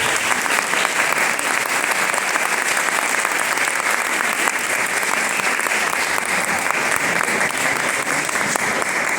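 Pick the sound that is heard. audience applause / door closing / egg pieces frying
audience applause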